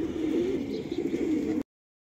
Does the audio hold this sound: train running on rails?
no